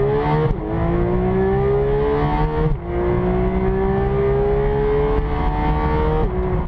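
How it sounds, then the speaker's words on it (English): A Porsche 911 GT3 (991) engine revs hard and high, its pitch climbing steadily through long pulls with brief drops at each gear change, loud and continuous, with hard mechanical valve-train noise. "this sort of hard mechanical valve train noise that comes through, that is addictive"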